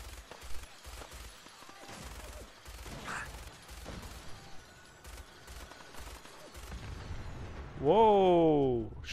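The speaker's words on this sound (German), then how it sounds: "Schöne Explosion." An explosion in the Fallout 4 game, a sudden loud blast near the end following scattered gunshot-like impacts.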